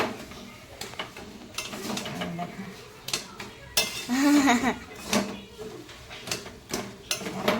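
Spoon clinking and scraping against a bowl while food is mixed, with irregular clatter of dishes and cutlery, someone talking over parts of it.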